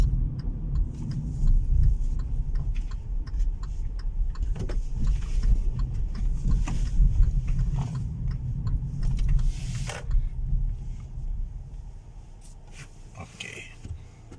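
A 2020 Kia Cerato drives on the road with a steady low engine and tyre rumble, a few creaks and clicks from the cabin, while someone talks over it.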